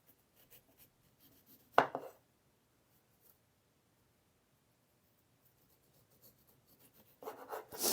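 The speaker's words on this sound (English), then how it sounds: "You just cut away all of the pith." A knife cuts pith away from citrus fruit in two short, soft scraping strokes, one near the start and another at the end, with quiet pauses between.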